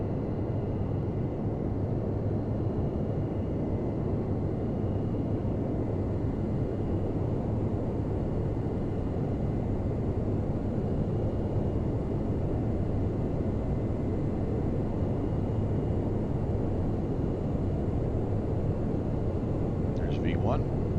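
Lockheed L-1011 jet engines roaring at takeoff power during the takeoff roll, a loud, steady low rumble and whine heard from inside the aircraft, constant throughout with a brief faint chirp near the end.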